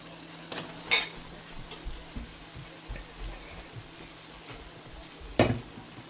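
Masala for keema fries gently in a pan with a low, steady sizzle, broken by two sharp clatters of a spoon against the pan.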